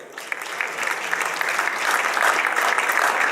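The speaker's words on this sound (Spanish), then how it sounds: "Fuerte el aplauso para los 4 para despedirlos, señores, que se escuche." At an international congress on municipal sport, an audience claps warmly, the applause building from moderate to fuller and holding steady across the few seconds.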